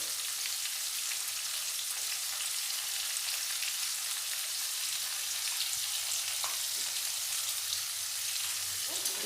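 Potatoes seasoned with salt and turmeric fry in oil with an even, rain-like sizzle that holds steady and fairly faint, with a couple of small clinks near the end.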